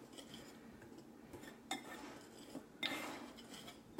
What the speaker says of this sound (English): I'm just going to whisk that together like that